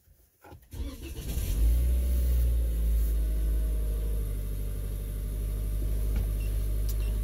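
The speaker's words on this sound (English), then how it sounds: "I'm going to go ahead and start the vehicle." A car engine turns over, catches and settles into a steady, loud idle as it warms up, recorded up close with no talking.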